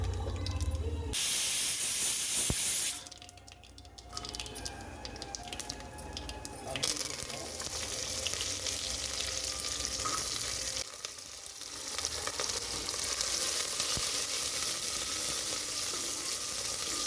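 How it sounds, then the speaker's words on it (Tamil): Shallots, dried red chillies and curry leaves crackle in hot oil as a tempering for instant tiffin sambar, a loud continuous hiss and sputter with a few abrupt shifts in intensity and no talk. "சின்ன வெங்காயம், வரமிளகாய், கருவேப்பிலை எல்லாம் போட்டு நம்ம தாளித்தோம்"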